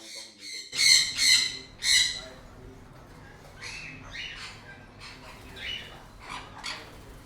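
Several loud, sharp squawks from pet sun conures burst out close by, then a string of softer chattering calls continues at a lower level.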